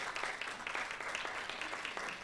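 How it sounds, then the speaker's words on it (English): An audience at a tutor recognition event claps for a city librarian, a fairly faint, steady patter of many hands heard from some distance and lasting the whole moment. "Give her a round of applause for that."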